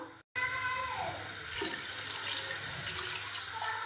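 Water pours steadily into a cooking pot of beef for a traditional Pakistani khara masala, a close, continuous splashing gush after a brief silent gap.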